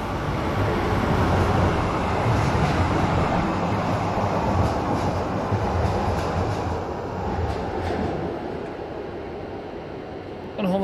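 A model train, favourite of its owner, runs continuously with a steady rumbling roll and faint rhythmic clicks, loud and close throughout with no talking.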